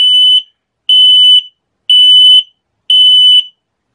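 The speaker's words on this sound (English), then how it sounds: "Now the solid light and the longer beeps are the propane alarm." An RV gas detector's propane alarm sounds four longer, evenly spaced high-pitched beeps, each about half a second with short gaps between, loud and piercing with no voices.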